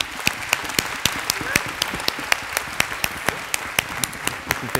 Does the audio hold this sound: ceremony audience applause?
yes